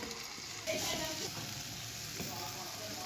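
Fried finger fish pieces are being stirred into a masala in a pan, with a steady low sizzle and soft scraping and turning sounds, and a slightly louder stir partway through.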